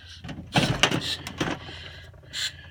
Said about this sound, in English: So we got one more drawer here